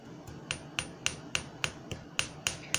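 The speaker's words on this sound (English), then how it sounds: "Again, no force with the hammer, kind of just let it drop on it." Silver ring being shaped with a light hammer dropped onto it rather than swung, giving about ten sharp metallic taps at a steady, unhurried rhythm, close and clear with no talking.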